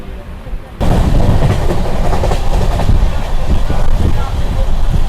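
A passenger train runs on the Krishnanagar to Azimganj line near the historic Nasipur rail bridge, giving a loud, steady rumble with rhythmic wheel clatter that starts abruptly and continues throughout.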